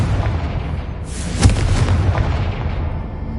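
An explosive Confringo spell in Hogwarts Legacy lands as one sudden boom, its broad blast rising at about one second before it decays into a long, rumbling, crackling tail, loud and close.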